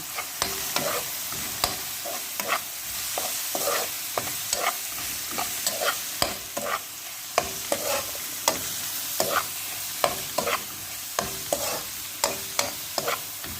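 Turmeric, black pepper, coriander and curry powder are stirred in a frying pan, with steady sizzling and repeated rhythmic spoon knocks and scrapes against the pan throughout.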